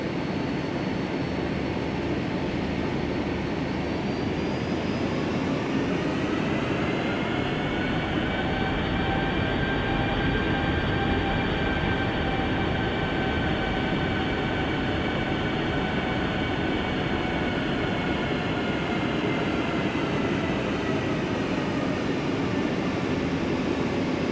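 Jet airliner engines whine and rumble steadily at close range as the plane taxis before takeoff on a Qatar to Saudi Arabia flight, with tonal whine rising and then holding at a constant level for the whole span.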